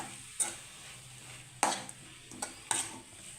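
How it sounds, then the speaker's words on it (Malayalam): A spoon stirs egg and drumstick-leaf thoran in a pan, giving three or four distinct scraping clinks at irregular intervals over a soft, steady sizzle. "നന്നായിട്ട് ഇളക്കാം."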